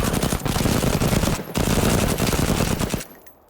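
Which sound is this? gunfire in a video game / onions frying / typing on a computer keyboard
gunfire in a video game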